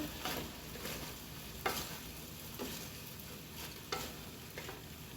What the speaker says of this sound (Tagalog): ilalagay ko na rin yung ating repolyo pack. Haluin ko lang